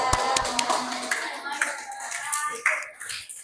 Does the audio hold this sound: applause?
yes